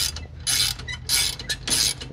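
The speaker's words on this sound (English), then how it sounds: "And then use a ratchet wrench again. And we'll just snug that thing down" A ratchet wrench snugs down a bolt on a Wunderbar tool bar for hilling potatoes, producing three close bursts of rapid metallic clicking separated by short pauses.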